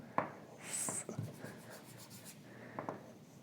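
Pen scratching on paper while centroid calculations for a practical case are written out by hand, a close, quiet run of strokes and taps with brief pauses and no talk.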